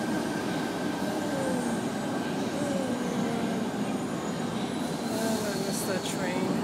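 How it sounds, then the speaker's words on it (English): Subway train arriving in an underground station, a steady roaring rush of rumbling cars and wind with faint wheel squeals, moderately loud and continuous. "I'm traveling down the escalator and the train wind is blowing through here"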